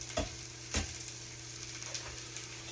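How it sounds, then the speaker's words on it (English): Eggs cracked one after another into a hot pan with spinach, smoked turkey and caramelized onions, sizzling steadily with a few sharp knocks and splats and no talking. "They all gonna spill out in the pan."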